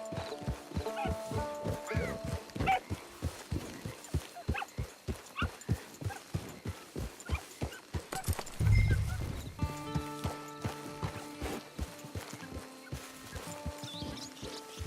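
Steady clip-clop of horse hooves trotting at a quick, even rhythm in the video game Red Dead Online, with a horse snorting midway and faint whinnies.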